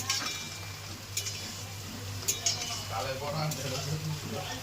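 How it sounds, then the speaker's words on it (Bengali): Okra and potatoes frying in a pan for dinner, a low steady sizzle with a few sharp clinks of a utensil against the pan, faint and fairly close, with a voice murmuring nearby. "এদিকে হচ্ছে ঢেঁড়স আলু ভাজা, রাত্রির ডিনার"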